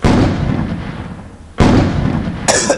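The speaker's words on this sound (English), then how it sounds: "He's firing missiles!" Missiles fire in the Roblox game, two loud booming blasts roughly a second and a half apart, each followed by a long rushing roar, with a sharp crackle near the end.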